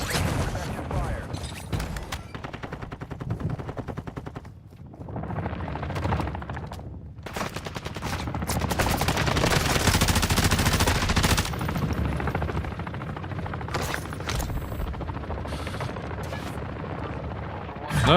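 Gunfire in the Call of Duty DMZ video game, bursts of rapid automatic shots and heavy firing, loud and dense throughout, under radio-style voice callouts and game effects.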